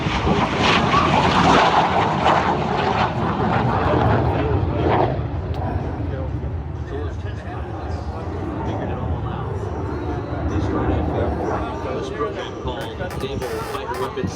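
A MiG-17 jet fighter, flying with a redesigned Rolls-Royce engine, performs a demo at the 2026 Dayton airshow. A loud, broad engine roar surges and slowly fades, with crowd chatter and announcer talk mixed underneath.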